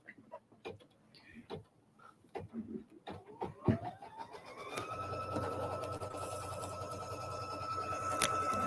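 An embroidery machine stitching out a quilting design: scattered light clicks and taps at first, then the machine starts into a steady, close mechanical whir of rapid stitching that carries on to the end, with no clear talk.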